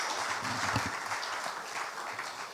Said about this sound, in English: Please appreciate her with another big round of applause.